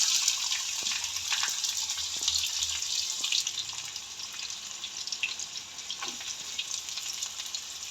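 Onion sizzles steadily in hot oil in a pan while cooking chicken fry, a continuous close frying hiss with occasional small pops and stirring scrapes, no voices.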